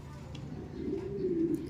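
Mundian pigeons give a soft, low, rolling coo close by, rising briefly and then fading.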